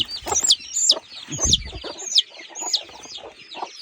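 Chickens cluck and squawk repeatedly in quick, uneven bursts, close by, with a louder thump partway through.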